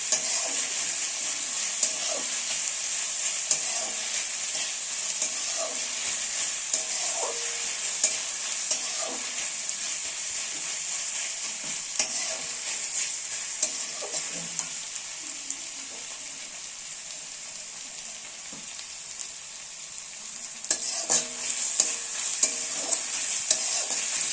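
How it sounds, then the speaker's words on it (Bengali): Chana masala fries in a pan with a steady bright sizzle, broken by frequent light clicks and scrapes of stirring throughout, no talking. "তো অল্প সময় আর একটুক্ষণ ভেজে নেব"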